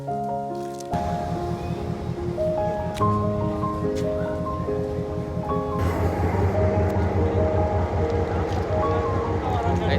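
A low rumbling engine with sustained tonal hums and a change in pitch partway, as a train idles or moves slowly at Diyatalawa railway station in Sri Lanka.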